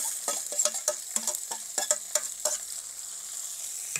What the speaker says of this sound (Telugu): పచ్చిమిరపకాయలు అయితే వేగినాయి. ఇప్పుడు ఎర్రగడ్డలు వేసుకున్నాము.